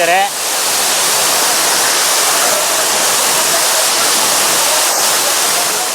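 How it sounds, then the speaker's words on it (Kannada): Broadband roar of Hogenakkal Falls, a large waterfall on a river gorge, rushing steadily and loudly close by, with a brief voice at the very start. "ಹೊಗೆನೆಕಾಲ್ ಫಾಲ್ಸ್ ನೋಡೋದಕ್ಕೆ ತುಂಬ ಚೆನ್ನಾಗಿದೆ"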